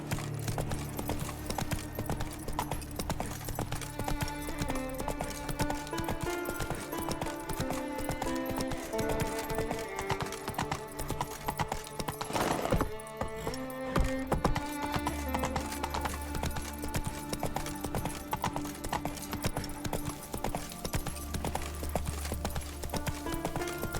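Roach the horse gallops in The Witcher 3, hooves clip-clopping steadily in a fast rhythm beneath a continuous orchestral game score, with a brief louder burst midway.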